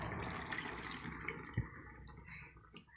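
Water being poured into a pot of cooking tapioca for kappa biriyani, a soft continuous splashing and trickling stream with a brief clunk midway, fairly quiet and close, fading slightly toward the end.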